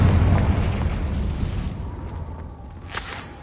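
A Confringo fire spell blasts in Hogwarts Legacy, a deep booming explosion that rumbles loudly at first and slowly decays, followed by a brief sharp crackle near the end.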